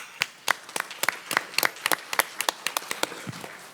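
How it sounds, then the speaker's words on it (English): A small group claps at a school board meeting, producing sparse, distinct hand claps in an irregular rhythm that sounds close and moderately loud. "Let's give them a round of applause."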